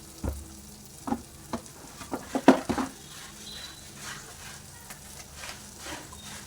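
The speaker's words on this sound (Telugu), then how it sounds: "వేసుకొని కొంచెం ఆయిల్ పైకి తేలే వరకు మగ్గించుకోవాలి" Chicken with spices, chilli, turmeric, coriander and cumin powder cooking in oil in a pan, a soft continuous sizzle broken by a few sharp clinks and scrapes of stirring.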